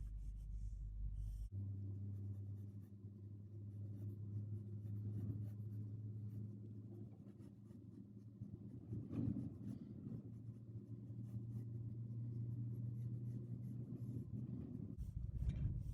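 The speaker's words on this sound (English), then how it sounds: "So I'm just going to sketch these in." A pencil sketches hands on paper, giving a faint, continuous scratching that runs steadily over a low background hum, with no talking.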